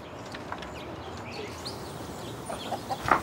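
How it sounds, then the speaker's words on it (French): Hens in a backyard coop cluck and call in scattered bursts over steady outdoor background noise, growing a little louder and busier toward the end. "La famille a acheté 3 poules il y a 6 mois."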